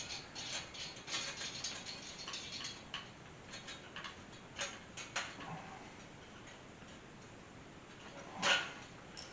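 Bolts on a 1981 Chevy C10 shortbed squarebody being tightened with a hand ratchet during body work, a run of quick, faint clicking pawl ticks in short bursts, with one louder knock near the end.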